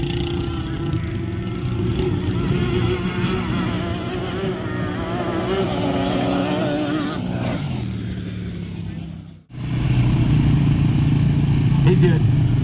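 Dirt bikes and ATVs drag racing at Mountain Mayhem 2024, engines droning loud and steady before one cuts off sharply and another roars up close, with crowd voices mixed in.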